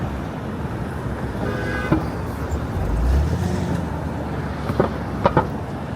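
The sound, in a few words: cars coming off the FDR exit in NYC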